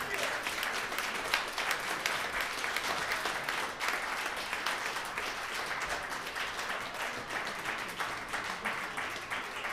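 Sustained audience applause follows an opera performance of Bizet's Toreador couplets from Carmen, a dense, steady wash of many hands clapping that fills the whole stretch at a moderate, distant level with no break.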